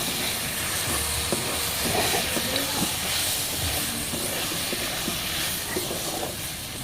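Chicken frying in a kadai with roasted ground cumin and Maggi masala gives a loud, continuous hiss that holds steady throughout, close by, with faint clatter underneath.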